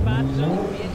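A Hot Knife sports car in a GTA game accelerates with a brief, loud engine rev rising in pitch, heard close up with a voice talking over it.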